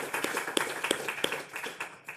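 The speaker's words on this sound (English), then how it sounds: "Please, a big round of applause for presentation of smart cities." Audience applause at the end of a smart cities presentation during an afternoon workshop session in Brussels: a small group claps in a quick uneven patter, fairly close, fading toward the end.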